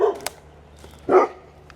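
A dog, reacting to what may be a snake outdoors, lets out two sharp, fairly close barks a second apart, with a few faint yips and soft noises between them.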